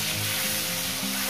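Continuous close hissing sizzle of okra and potatoes frying in a pan, loud and steady for the whole short stretch.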